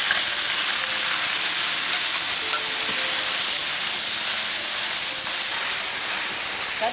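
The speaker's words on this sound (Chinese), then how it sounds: "倒点油来炒蒜蓉" Minced garlic frying in hot oil in a wok, a loud, dense, continuous sizzle and hiss with no pauses, heard alone and close up.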